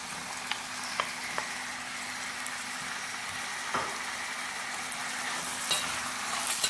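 Cubes of boneless chicken frying in onion and ginger-garlic paste for chicken jalfrezi, a quiet steady sizzle with a few light spoon clicks against the pan, no speech.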